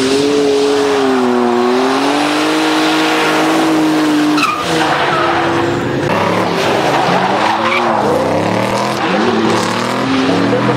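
BMW E36 Touring drifting at a drift competition, loud engine droning and revving with sustained tire squeal and skidding, pitch rising and falling through the run, close and continuous.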